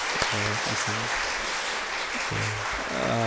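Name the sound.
congregation applauding in church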